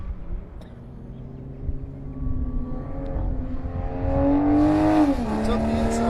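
A Toyota Supra race car approaches and passes at Hallett racetrack, its engine note rising and climbing in pitch as it revs closer, loud at the end, with voices talking over it.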